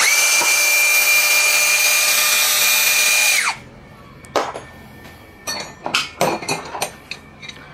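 A DongCheng DCJZ2060i brushless hammer drill runs at a loud, steady high-pitched whine for about three seconds and then winds down abruptly. Sharp clatters and knocks follow, with no talking.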